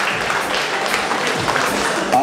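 Crowd applause fills a professional boxing arena as a WBO European title belt is brought into the ring, a dense steady roar of clapping with a voice talking loudly over it throughout.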